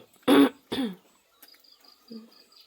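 Two short, harsh throat-clearing bursts in quick succession, fairly close, followed by quiet with faint insect chirps and a brief soft vocal sound.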